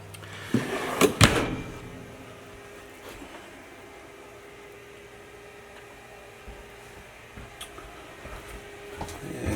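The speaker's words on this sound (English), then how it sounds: "Show off the full length metal ball bearing drawer guides" A drawer in a 2014 Keystone Cougar 21RBS X-Lite travel trailer sliding on full-length metal ball-bearing guides, a quick rattling slide and thump early on, followed by quiet room tone with faint knocks.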